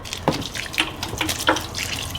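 Water is poured into a soil mix for planting dahlia tubers, giving a short, splashy, trickling wash with a few soft sputters and gurgles, close by and moderately quiet, with no talk.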